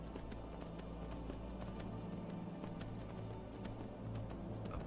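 Horse hooves in Skyrim clip-clop steadily uphill in an even, continuous rhythm, fairly faint and heard alone without talk.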